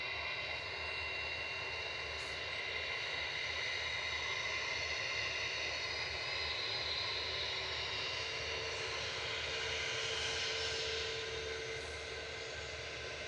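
Boeing 747 airliner engines at Manchester Airport give a sustained, even roar with a whining hum layered on top, holding steady for the whole stretch with no voices.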